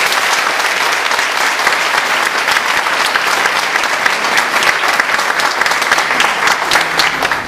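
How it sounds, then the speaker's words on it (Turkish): Concert audience applauding a bağlama student named Ahmet at a saz course recital, dense sustained clapping from a full crowd, loud and even throughout. "Ahmet için bir alkış alalım."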